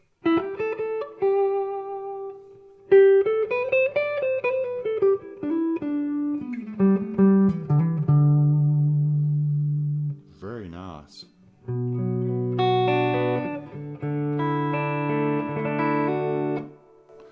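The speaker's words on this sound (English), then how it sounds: "This is the reverb side of the Tone Master that I'm playing, or in other words, the vibrato channel" Guitar played through the vibrato (reverb) channel of a Fender Tone Master Deluxe Reverb amp, sustained chords and single notes ringing with a shimmering wash, a brief pause near the middle, and a short spoken remark.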